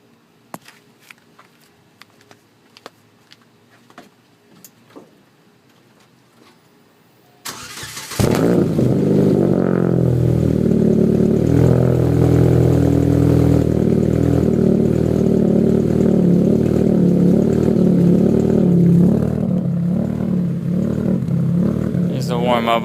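A Chevrolet Cobalt with a Badmab header, ZZP downpipe, no catalytic converters and a 2.5-inch exhaust with a boiler muffler sits silent, then cranks and fires up, settling into a loud, steady, slightly bouncy idle that runs without a break.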